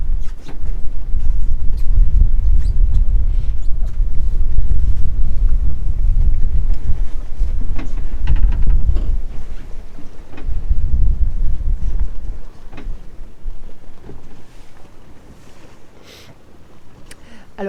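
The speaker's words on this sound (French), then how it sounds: "Ce petit vent frais." Strong wind buffets and roars across the microphone in heavy gusts, easing somewhat toward the end.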